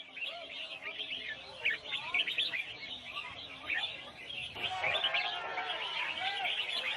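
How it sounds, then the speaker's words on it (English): Exotic birds, captured in an Asian rainforest, sing at a bird market during a singing competition: dense, overlapping chirps, whistles and trills pour out continuously, busier and louder in the second half. "here participating in a bird singing competition"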